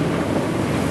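Strong wind gusting up to thirty knots roars steadily across a motor-sailing boat with some headsail out, sheltered in the lee of land, a loud continuous rush with wind buffeting the microphone.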